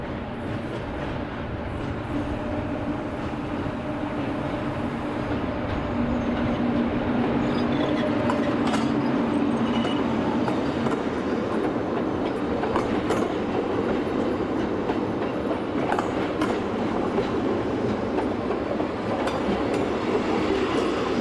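A Rhaetian Railway local train, number 618, rounds a curve into Samedan station in the Alps, a steady loud rumble of wheels on rail with faint clatter and a sustained squealing tone.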